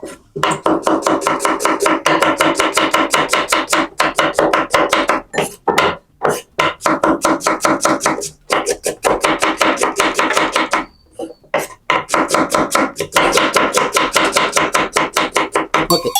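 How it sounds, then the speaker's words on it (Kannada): Onions, three of them, are chopped very fast with a knife on a board: a dense, loud, rapid run of sharp cutting strokes with a few brief pauses, and no voices. "ಇವ್ರು ಎಷ್ಟು ಬೇಗ ಈರುಳ್ಳಿ ಹೆಚ್ಚುತ್ತಾರೆ ಅಂತ ನೋಡ್ಬಿಡೋಣ"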